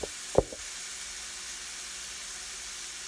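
Sausage browns in a pan for keto zuppa toscana soup, giving a steady faint sizzle throughout, with a single knock near the start.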